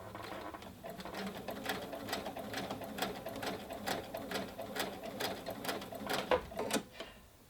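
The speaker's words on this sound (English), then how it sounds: "I'm just going to do a couple of back tacks to secure. And then carry on sewing." Close-up whirr of a sewing machine running along a continuous placket, stitching almost nonstop with a few short back-tack reversals and slight stutters before it settles and fades at the end.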